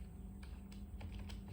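Quiet keystrokes on a computer keyboard while HTML code is typed, a few soft irregular taps over a steady low hum.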